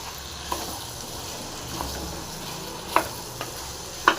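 Masala fries for a dried rock fish curry, a soft steady sizzle in the pan broken by a few sharp spoon taps and stirring clinks, close but fairly quiet, with no talking.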